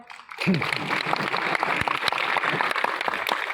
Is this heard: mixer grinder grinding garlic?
no